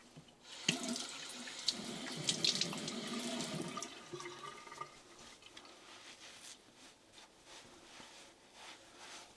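A bathroom tap runs into a sink to rinse a razor and face after a wet shave, a steady close rush of water for a few seconds that then thins to scattered splashes and drips.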